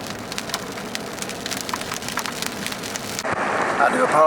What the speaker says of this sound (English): I do apologize for the rain and the wipers.